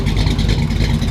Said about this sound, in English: Good sounding car.